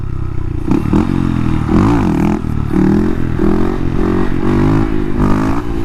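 Dirt bike engine revving hard in repeated surges during a wheelie attempt, loud and close with rough, warbling pitch swings.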